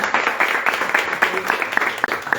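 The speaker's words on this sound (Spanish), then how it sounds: "Un aplauso para Carlos." A crowd claps steadily, a dense patter of many hands with sharper individual claps standing out at a brisk, even pace.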